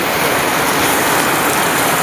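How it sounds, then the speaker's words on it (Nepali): Heavy rain pouring down in a village with no wind, a dense, even, loud hiss of water throughout with nothing else standing out. "हावा बिनाको पानी।"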